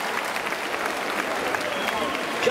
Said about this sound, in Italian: un applauso solo alle donne.